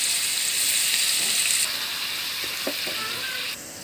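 Marinated chicken fries in hot ghee for biryani, a loud dense sizzle that eases slightly midway, with a couple of soft stirring knocks and a quieter hiss at the end.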